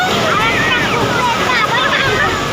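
Ocean surf breaking at Puri beach, a loud continuous rush of waves and wind close to the microphone, with children's voices mixed in.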